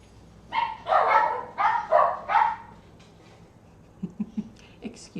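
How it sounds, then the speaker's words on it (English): Dogs bark in a quick burst of four or five loud barks in the room. Softer thumps and brief voices follow during a home live stream. "Excuse my dogs."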